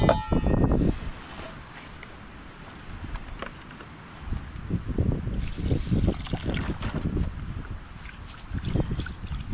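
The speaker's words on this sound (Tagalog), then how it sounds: "medyo mahirapan tayo dahil malakas ulit ang hangin eh" Strong wind gusting at a remote campsite in Malico, rumbling against the microphone in uneven bursts, loud at first, then easing and swelling again, with no talking.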